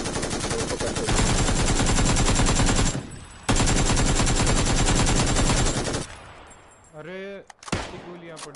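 Rapid automatic gunfire in the PUBG video game, loud and continuous in two long sustained bursts with a short gap between them, then fading out as a voice talks near the end.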